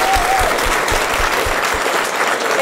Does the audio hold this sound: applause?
yes